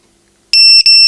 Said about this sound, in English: it beeps at a max volume for 20 seconds